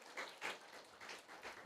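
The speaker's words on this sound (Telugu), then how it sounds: "అందరం దగ్గరగా చప్పట్లు కొడదాం యేసయ్యకి." A church congregation at a Sunday service claps for Jesus, giving a few faint, scattered bursts of applause at a distance.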